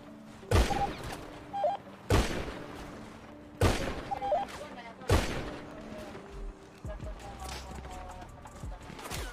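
Gunfire in GTA V roleplay shows sharp single shots at irregular intervals, about five loud close cracks with echoing tails and some fainter pops, over a busy game background.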